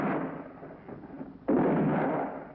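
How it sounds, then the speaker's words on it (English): Gunfire in a spaghetti western battle scene, with rumbling booming blasts, a muffled roll of shots followed by one heavy, sudden report that lingers and decays, no voices. "Come on, start shooting!"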